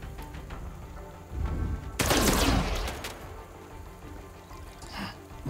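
Gunfire in the Miasma Chronicles video game, a loud rattling burst of rapid shots that swells suddenly, fades out over a second, then returns briefly near the end.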